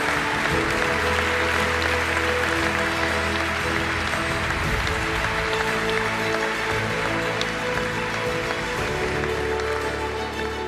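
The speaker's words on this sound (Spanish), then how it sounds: "un aplauso fuerte mientras sacamos la foto" Loud, sustained applause at a national canoeing awards gala, a steady, dense roar of clapping from a large crowd that holds at an even level throughout.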